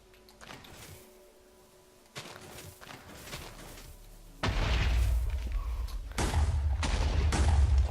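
TNT launcher firing in Minecraft, a series of explosion booms that grow louder and denser over the clip, ending in heavy sustained blasts.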